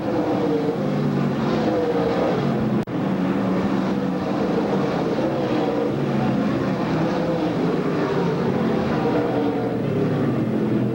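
Stock race cars roaring around Pennsboro Speedway in a 1995 STARS race, a dense, continuous loud engine drone from a pack of cars with a brief dip in the middle.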